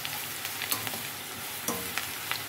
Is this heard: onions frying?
yes